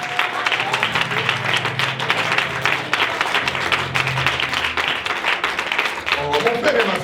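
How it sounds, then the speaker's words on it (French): A church congregation applauding during a French-language service, a dense sustained burst of clapping from a crowd, fairly loud and continuous throughout. "Acclamez pour la parole de Dieu."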